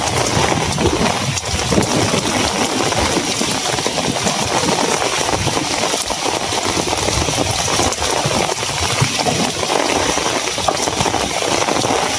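Heavy rain with strong gusting wind during a sudden storm, a dense, loud and continuous roar with buffeting wind against the microphone and no talk.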